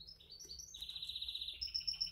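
A pet canary chirps while being handled, giving a quick series of high, thin tweets and one longer sustained trill, close and clear against a quiet background.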